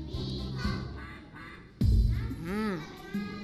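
Ducks quacking in a first-grade counting lesson: several distinct nasal quacks, one longer, wavering call in the middle, sounding over a busy background of voices and tones.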